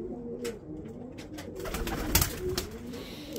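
Breeder pigeons cooing steadily in a loft, a continuous low throaty rolling coo from several birds close by with brief rustles and flutters, no talking.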